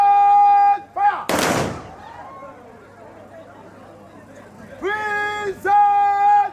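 A gun salute volley at a burial service: one sharp, loud crack of rifles firing together, echoing briefly, between shouted commands and a ringing tonal sound, with crowd murmur in the background.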